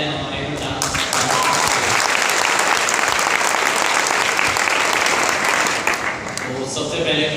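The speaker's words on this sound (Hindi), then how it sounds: "और साथ ही एक बार जबरदस्त तालियां हो जाए हमारे डांस।" Audience applause for a dance performance at a Jharkhand community event, a dense sustained wash of clapping that fills the room for several seconds with voices faintly mixed in.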